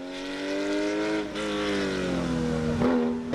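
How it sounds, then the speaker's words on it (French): A Porsche 996 production GT race car climbs a hill-climb course at Saint-Gouëno in the French mountain championship, its engine howling and rising in pitch with quick gear shifts, loud and close throughout. "Rémi Courtois ne déméritait pas et assurait le spectacle au volant de sa Porsche 996."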